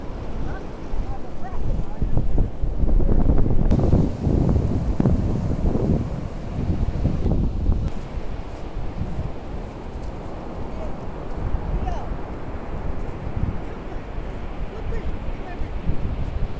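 Big surf breaks on an Outer Banks beach at Ocracoke, a steady loud roar of crashing waves mixed with gusting wind buffeting the microphone.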